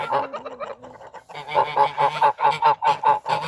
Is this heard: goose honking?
yes